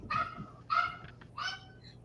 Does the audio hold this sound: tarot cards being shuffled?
no